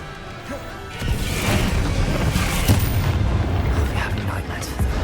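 Explosive Confringo and Bombarda spells blasting in Hogwarts Legacy, a run of loud booming hits amid a noisy magical duel, with spell incantations shouted throughout.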